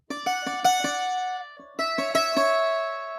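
Mandolin picking plays a phrase from a song that walks down the scale in two runs of bright, ringing plucked notes with a short pause between them, close and clear with no talking.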